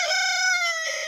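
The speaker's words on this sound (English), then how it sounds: "excuse the roosters" A rooster crows once, a clear, sustained, strongly harmonic call close by in a garden, with no talk over it.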